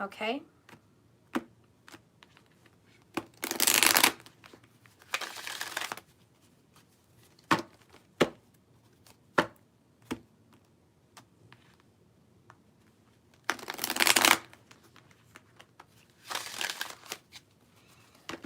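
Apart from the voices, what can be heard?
shuffling oracle cards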